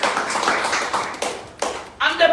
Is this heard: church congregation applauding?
yes